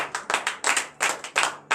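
Worshippers at a morning prayer service in Benin clap together in a quick, rhythmic beat, about eight sharp, close, unison claps in under two seconds.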